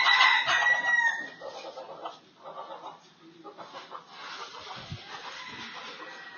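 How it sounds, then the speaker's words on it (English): Chickens cluck and a rooster crows nearby, a busy run of overlapping calls with a loud crow at the start and steady clucking after, and a bit of speech mixed in. "Looks like the chickens have their own talk."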